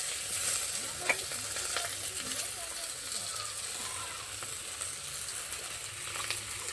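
Chopped potato and green chilli frying together for chow mein, a steady close sizzle with stirring scrapes running throughout.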